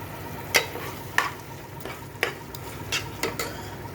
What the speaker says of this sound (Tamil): மஞ்சத்தூளும் உப்பும் ஆட் பண்ணி வதக்கிட்டுருக்கேன்.